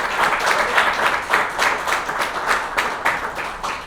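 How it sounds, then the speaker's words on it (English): An awards ceremony audience claps steadily, a dense and fairly loud round of applause that carries on throughout with no letup. "go ahead and give Dan a round of applause for all the work he's done"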